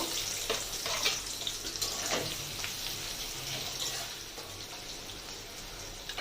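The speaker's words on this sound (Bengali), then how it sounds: "এই পেঁয়াজটাকে একটু লাল লাল করে ভেজে নিতে হবে।" Onions frying in oil with melted sugar, salt and bay leaves for an egg curry, a dense continuous sizzle with occasional stirring, close by and without talk.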